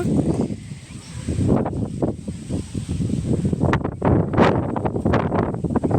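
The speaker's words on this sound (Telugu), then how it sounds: "ఇంకా కూడా వస్తుంది గాలి ఫుల్గా వస్తుంది" Strong gusty wind buffets the microphone on a dark evening before a thunderstorm in Karimnagar, roaring and rustling in uneven surges that swell louder toward the end.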